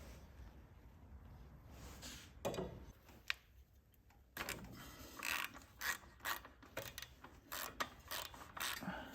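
A spark plug is unscrewed from the engine of a Wheel Horse C-120 garden tractor, heard as close, faint ratchet clicks in short bursts with quiet gaps between them.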